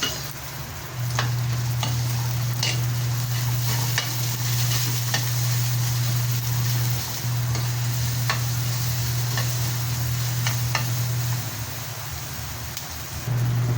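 Onion sautéing in a pan for chicken tinola, a steady close sizzle with scattered clicks of stirring, running almost continuously with a couple of brief dips, no voices.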